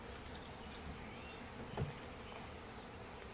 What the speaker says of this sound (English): that's maybe a couple thousand bees, maybe.